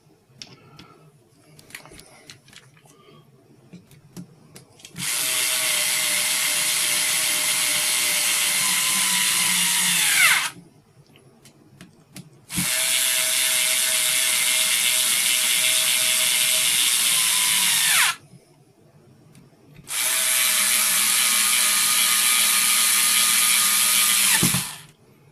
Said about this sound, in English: So put the screws back in.